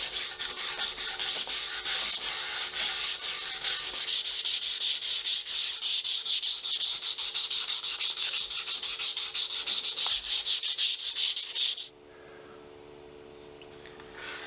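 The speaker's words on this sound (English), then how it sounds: "I'm going to sand the back and the neck up to 320 grit." Hand sanding the wooden back and neck of a guitar up to 320 grit, a steady, close, rapid back-and-forth scratchy rubbing that runs continuously, then cuts off abruptly near the end, leaving a quieter background.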